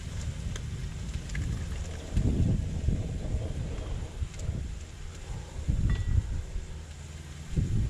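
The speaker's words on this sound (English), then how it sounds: "You can hear the wind blowing it, can't you?" Wind buffets an outdoor Trangia 27 camping stove during a stir-fry, a continuous rushing roar with gusty low-frequency swells rising and falling throughout.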